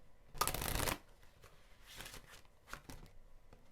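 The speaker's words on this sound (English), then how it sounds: "this card kind of came out as I was shuffling" A deck of tarot cards is shuffled close up, one loud riffling burst followed by several softer, brief card rustles and taps in a quiet room.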